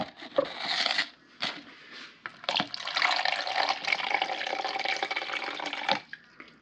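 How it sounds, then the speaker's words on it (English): Water poured from a jar into a measuring cup while making a pickling brine, a steady splashing trickle lasting several seconds with brief pauses near the start, close and moderately loud, with no talking. "you're going to want to pour half of it into a measuring cup."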